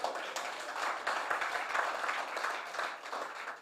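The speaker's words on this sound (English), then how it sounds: "You can give me a round of applause" An audience claps at a conference opening ceremony for Jamaica 60, steady applause from many hands, fairly faint and distant, sustained without a break.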